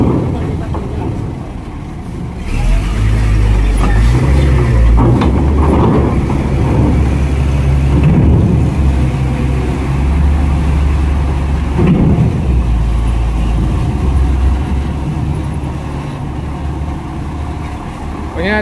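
A trailer truck rolls onto a ferry at Merak port with heavy low diesel rumble, surging and easing over about eighteen seconds, amid clanking ramp noise and someone talking.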